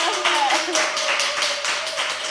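Quick, dense clapping from a small studio audience at a podcast celebration episode, a brief burst of applause mixed with a voice speaking over it and some cheering.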